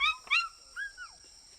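Pet toucan giving short, rising nasal yelps, two quick calls followed by a longer whining sweep, close and fairly faint against a quiet background with no talking.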